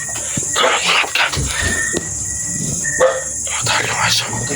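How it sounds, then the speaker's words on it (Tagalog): A dog barks repeatedly at night, loud and close, in short bursts amid clattering noise and people talking. "Tumatahol yung aso."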